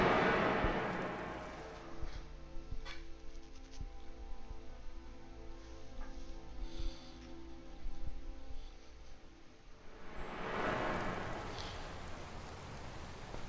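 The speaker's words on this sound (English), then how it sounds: "we're in Markarth, and it's raining" Steady rain falls over Markarth in the video game Skyrim, a soft continuous patter with occasional louder swells, heard alone without talk.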